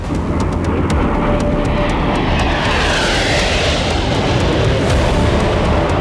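Typhoon fighter jet flying, a loud, steady broadband engine roar that holds near and constant throughout with no pauses.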